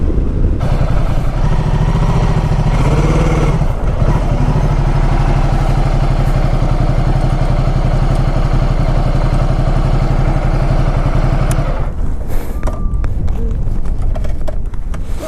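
A 2018 Ducati Multistrada 1260S engine at steady throttle while riding, a loud continuous drone with wind rush and no talking.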